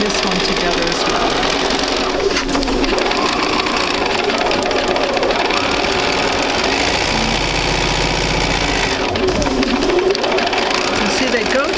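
Sewing machine chain piecing quilt strips, its steady fast motor hum running continuously and loudly with a brief pause, while a person talks over it.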